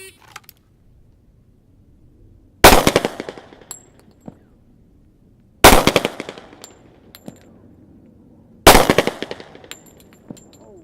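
A 1911 pistol on a shooting range fires sharp, loud single shots in evenly spaced strings, each followed by ringing echo and faint clicks. No one speaks.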